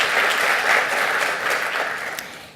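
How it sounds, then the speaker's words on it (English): Steady applause from a business audience honoring the chair of the San Antonio Chamber, a dense wash of many hands clapping at a constant level throughout, with no voices standing out. "Let's give her, Madam Chair, a round of applause too."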